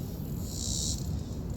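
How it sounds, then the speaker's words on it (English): Crickets chirp in a steady, high-pitched trill outdoors beside a pond, one shrill burst swelling briefly above the constant background hum of insects and ambient noise. "Just me and these crickets"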